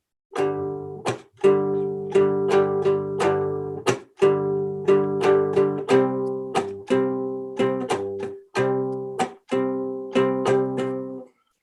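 A three-string cigar box guitar strums chords in a bouncy calypso rhythm, with sharp muted chops on the second beat at regular intervals, played alone and close.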